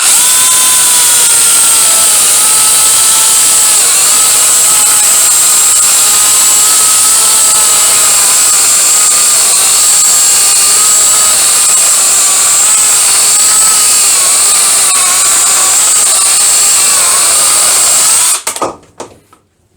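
A Parkside 20V cordless mini chainsaw, model PGHSA 20 Li A1, cuts wood under moderate pressure with a steady, loud, high-pitched motor whine for about eighteen seconds, then stops abruptly. No voices.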